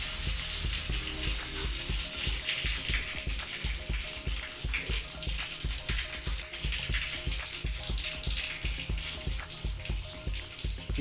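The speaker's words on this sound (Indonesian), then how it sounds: "Ini adalah kucuran air tanpa pompa pendorong." Water gushes steadily from a household tap running without a booster pump, a continuous hissing, splashing stream close by with no talk, part of a gas water heater installation.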